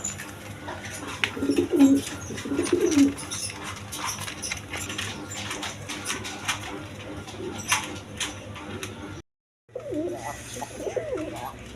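Pigeons coo in soft, throaty bursts amid a busy background of fluttering and faint rustling, with a brief dropout near the end.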